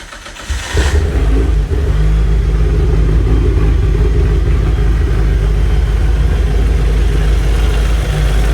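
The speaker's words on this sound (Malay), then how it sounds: "So kereta aku lepas pasang air filter tu, mesti dia takkan bunyi kuat dah." A car engine fitted with a new air filter starts up after a brief quiet moment, then runs at a loud, steady idle with a deep, even rumble until the end.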